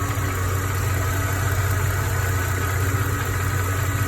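A 2009 Mercedes E350 engine idles after a serpentine belt, pulley and tensioner replacement, a steady close-up low rumble with a constant whir and no voices.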